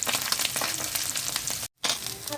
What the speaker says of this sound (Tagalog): katulad yun tumatalsik yung mantika kaya isa-isa lang natin pagbaliktad